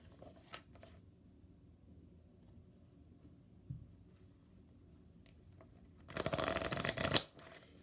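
Kipper cards are shuffled in a single brief, close riffle, a crisp papery burst lasting about a second after near silence with a few faint taps.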